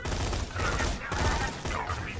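A sentry gun in Borderlands 2 fires a dense, continuous burst of rapid gunshots at close range for about two seconds, with other game sounds underneath.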